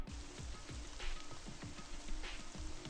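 Indoor sprinklers spraying water in the video game Danganronpa Another 2, a steady hissing patter like rain hitting a surface, continuous and fairly faint throughout, with no voices.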